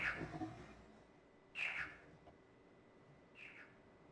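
Chirping, bird-like calls in the video game Riven: The Sequel to Myst, three short bright bursts spaced apart over a quiet hum, standing alone with no talking.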